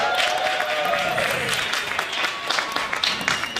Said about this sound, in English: So can we give the catering staff a round of applause?